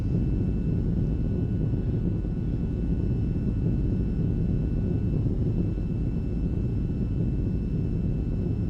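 A VTOL aircraft sits just after a heavy landing in the combat flight game VTOL VR, giving off a steady, loud low engine rumble and roar with faint high whine tones and no voices.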